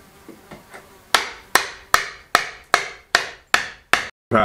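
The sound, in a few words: hitting an awkward piece of firewood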